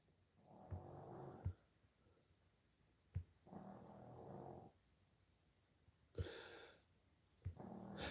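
A dog snores softly and rhythmically, with drawn-out breaths repeating about every three seconds, each ending in a faint snort, quiet and close with no talking.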